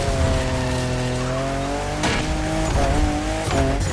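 Fifth-generation Toyota Supra in a racing video game, engine droning loud and steady with climbing gear tones, brief shifts and tire squeal near the end, no talking.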